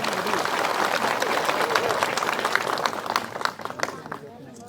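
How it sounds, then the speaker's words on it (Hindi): Crowd applause at a political gathering with three parties on one stage, a dense roll of clapping that thins into scattered claps toward the end, with voices audible underneath. "इसके लिए सबको इनको ताली देना चाहिए।"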